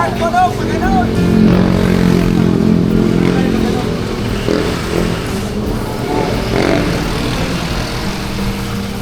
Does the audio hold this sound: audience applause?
no